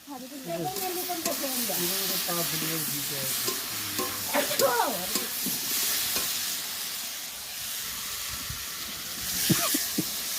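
Potatoes and papaya sautéing in a pan, a steady sizzle with stirring scrapes under a voice that talks and then fades, leaving the frying alone.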